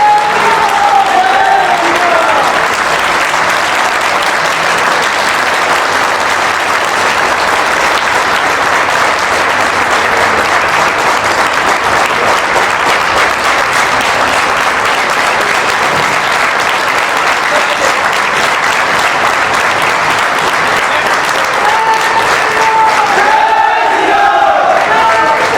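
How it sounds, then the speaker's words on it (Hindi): An audience applauds without a break through a poetry recital at a Rashtra Raksha Divas celebration: dense, steady clapping that stays loud for the whole stretch, with a voice faintly audible near the start and end. "अगर आप लोग 1 मिनट तक लगातार तालियां बजाते हैं"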